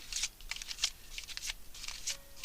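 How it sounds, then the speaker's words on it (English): Crisp, rapid riffling of tarot cards being shuffled by hand, a few quick bursts close up with brief pauses between. "Give it a little shuffle here."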